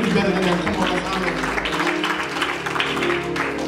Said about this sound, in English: while you're clapping your hands